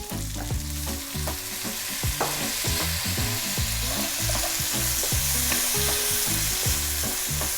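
Onion and tomato sauté in a hot pan with garlic and ginger for a Filipino chicken curry, giving a continuous close sizzle broken by repeated scraping and stirring clacks of a utensil.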